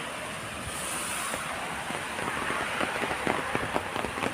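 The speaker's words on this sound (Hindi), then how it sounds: "आज यहाँ पे बारिश स्टार्ट है।" Steady rain patters on a hard surface in Italy, a dense hiss with scattered louder drops, constant throughout with no voices.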